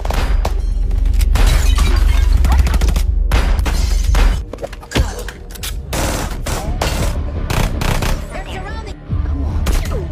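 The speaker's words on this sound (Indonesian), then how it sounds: "tembak-tembakan." Gunfire exchange in an action film scene, with dense bursts of automatic fire, sharp single shots and booming impacts over a heavy low rumble. Loud and continuous, with voices partly buried beneath it.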